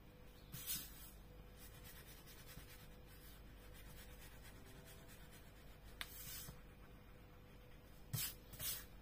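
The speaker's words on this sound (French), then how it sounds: "on va pouvoir gommer ici" An eraser rubs out pencil lines on a handmade advent calendar in quick, faint bursts of scrubbing, near but very quiet, with long low pauses between and no one talking.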